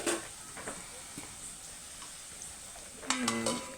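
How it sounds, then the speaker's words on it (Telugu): Potatoes frying in a pan for aloo fry, a soft steady sizzle and hiss running throughout, with a brief louder burst of stirring and clatter near the end. "అవి పచ్చివాసన పోయే వరకు వేయించాలి."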